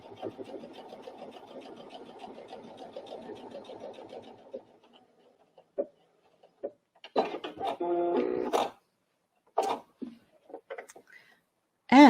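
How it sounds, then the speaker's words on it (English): A Brother SE1900 sewing machine stitches a buttonhole with a fast, steady mechanical whir for several seconds, then stops, followed by scattered clicks and someone talking close by. "I've selected my buttonhole and I'll simply press go."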